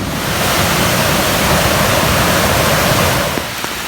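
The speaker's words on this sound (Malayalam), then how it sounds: "അതങ്ങ് മലയുടെ മുകളിൽ നിന്നൊക്കെ വെള്ളം നല്ല അടിപൊളിയായിട്ട് ഒഴുകി വരുന്നുണ്ട്" Steady, loud rushing of a waterfall pouring down a mountain in Idukki, Kerala, during rain, a broad continuous roar unbroken for the whole stretch with no voices.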